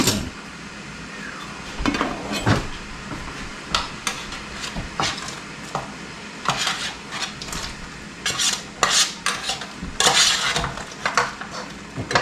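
Raw potatoes tumbling and scraping into a metal pot for boiling, a run of clattering, rasping knocks and splashes at close range, uneven bursts across the whole stretch with no talk.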